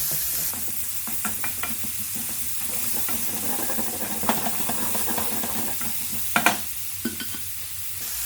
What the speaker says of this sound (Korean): 고기와 마늘 생강을 살짝 볶아주세요.